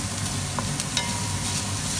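Grated ginger being sautéed for pansit with banana heart: an even, close sizzle and hiss broken by a few light spatula clicks, without any talking.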